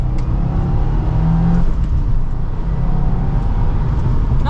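A 2023 Subaru WRX Limited accelerates in second gear, its engine giving a steady, loud, rumbling drone heard from inside the cabin, with no talking over it.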